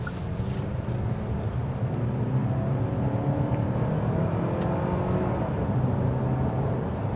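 A 2025 Hyundai Santa Cruz SEL pickup pulling away at about half throttle, its engine a steady low drone blended with road and wind noise inside the cabin, with no sharp rise in revs.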